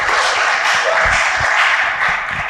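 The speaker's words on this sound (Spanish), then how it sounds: "Un aplauso para Miño" An audience claps for a presenter at a talk, dense steady applause filling the whole moment, fairly loud and close, with no speech over it.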